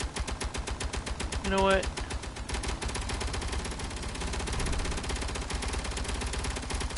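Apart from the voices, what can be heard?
gunfire from a video game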